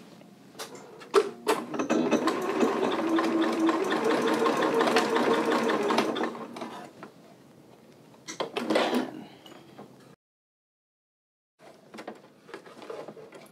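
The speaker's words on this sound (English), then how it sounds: "we're going to use the zigzag to hold these two ends of the elastic together." A sewing machine runs a zigzag stitch joining two ends of skinny elastic for a dress waistband, with a sustained loud whirring burst, a shorter second run, a pause and then quieter mechanical handling sounds.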